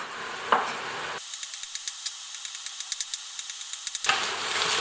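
Bolognese meat browns in a pressure cooker pot with a soft continuous sizzle, broken in the middle by a run of sharp crackling pops, close up and fairly quiet.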